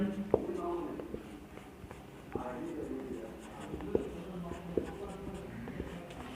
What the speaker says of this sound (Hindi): तो हम सबसे पहले यहां हेडिंग लिखेंगे